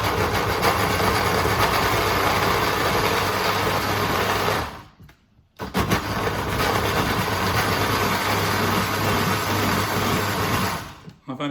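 A kitchen blender blitzes gazpacho in two loud, steady bursts with a short pause between them, the motor roaring close up with nothing else over it.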